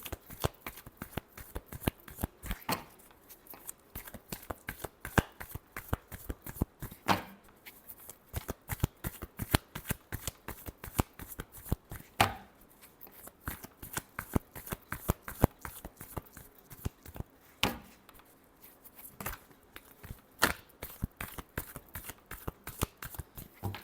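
A deck of tarot cards is shuffled close up in a long run of quick, crisp riffling flutters and slaps that repeat in bursts with short pauses, clear and fairly quiet, with no voices.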